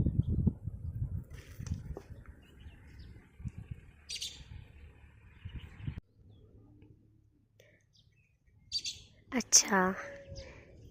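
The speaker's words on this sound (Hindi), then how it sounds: "पीछे देखो चिड़िया कितनी प्यारी ची ची कर रही है।" A small bird chirps from a tree in a hill village, a few faint tweets early on and then a brighter burst of quick chirps near the end, with soft, quiet talk and rustling beneath.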